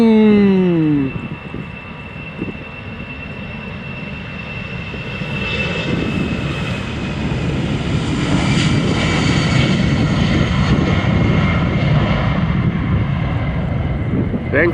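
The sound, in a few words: EasyJet airliner departing Amsterdam Schiphol Airport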